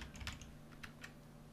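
Soft, quick keystrokes on a computer keyboard while PHP code is typed, a short run of light, close clicks in a quiet room.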